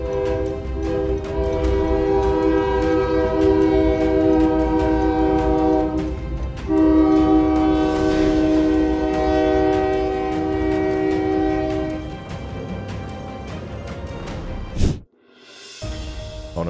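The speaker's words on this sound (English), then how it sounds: "The train received the signal and braked remotely" A train at a rail crossing blasts its horn in long, loud, steady tones over rumbling wheels and clanks, then the noise drops out abruptly after a sharp burst near the end before a faint return.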